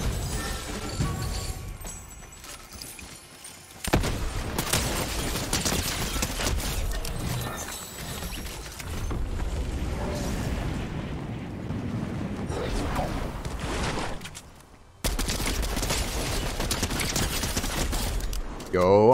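Bursts of rapid gunfire from a Fortnite Zero Build match, loud and dense in sustained volleys with brief gaps, under occasional talk.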